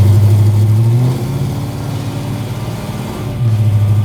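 A Chevy C10 short wide box truck with a big block 396 V8 revs loud and close, its deep exhaust note rising, dropping back to a lumpy idle, then climbing again.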